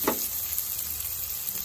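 Onions, cumin and green chillies sizzle steadily in hot oil in a pan, a close, constant frying hiss with a short clink at the start and no voices.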